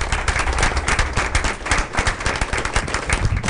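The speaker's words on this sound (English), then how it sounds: "Let's give him a round of applause." Audience applause at a Board of Education meeting: steady, dense clapping from a room of people, fairly close and even in loudness from start to finish with no pauses.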